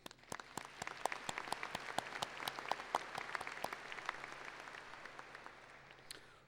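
Applause from the audience at a 2017 Simon Kenton high school graduation in NKU's BB&T Arena, heard as scattered, fairly faint individual claps that ring through the large hall and carry on for several seconds.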